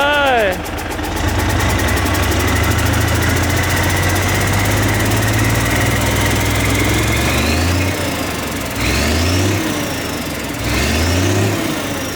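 A Hino S700 truck with an E13C diesel engine starts and idles with a steady low rumble, then revs three times in short rising bursts that drop back to idle.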